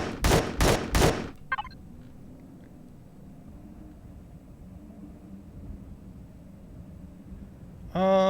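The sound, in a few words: gunfire from the video game Empyrion Galactic Survival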